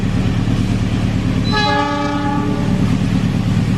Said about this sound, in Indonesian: KA Lodaya 159 yang diberangkatkan dari Solo bertujuan akhir Bandung